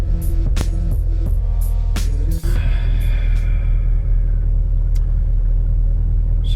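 A car drives past outdoors with a loud, steady low engine rumble, accompanied by several sharp clicks and thumps early on.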